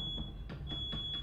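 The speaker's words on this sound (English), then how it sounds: "I think the alarm's going off." A smoke alarm chirps in a room as a faint, steady high-pitched electronic tone, broken by several soft rhythmic clicks or taps.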